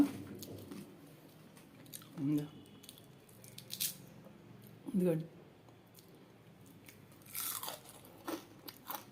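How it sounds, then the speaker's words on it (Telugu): Crispy deep-fried flattened-rice (atukula) vadas crunch in a few separate sharp bites, spaced seconds apart and close to the mouth, between stretches of a person talking. "వినబడుతుంది అండి ఎంత శబ్దం వస్తుందో కరకర కరకరక"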